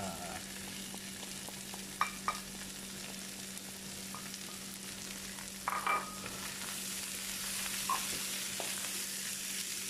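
Long beans tossed into a hot pan for a stir-fry give a quiet, steady sizzle with a low hum underneath and a few scattered clinks and scrapes from stirring.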